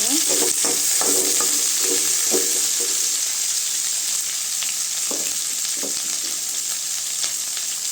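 Onions and green chillies frying in a pan with rock salt for potato kurma give a loud, close, constant sizzle, with spatula stirs clustering early and recurring later.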